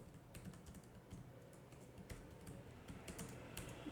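Steady typing on a computer keyboard, a run of light, close clicks and key taps at an uneven pace with no voice over it.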